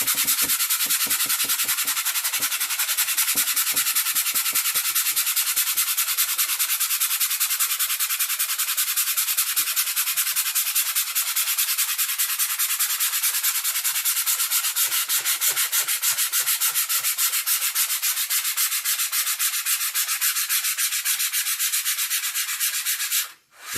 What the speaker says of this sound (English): There's a scarring here, but keep sanding it.